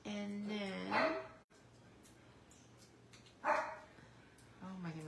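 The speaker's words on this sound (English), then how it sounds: "my puppy is barking." A puppy barks a few times in a small room, the short yips and barks coming in brief bursts at the start and near the end over a steady low hum, with a person talking softly in between.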